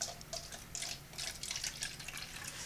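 Water poured from a gallon jug onto potted super hot pepper plants, a quiet, close trickling and splashing stream with small fluctuating gurgles for a few seconds.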